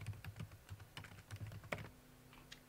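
Quiet, close clatter of keys being typed on a computer keyboard, a quick irregular run of taps with a faint steady hum behind.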